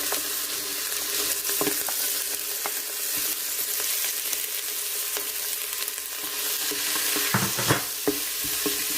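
Onions frying in a pot with bay leaves for a Sri Lankan style mutton gravy: a steady, close hiss of sizzling oil with scattered stirring scrapes and clinks.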